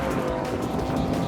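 An Audi RS3 engine roars close and loud as the car drives a tight, twisty track on wider front tyres, a dense, continuous, strained note with no pauses.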